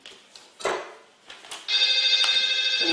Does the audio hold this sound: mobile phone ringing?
yes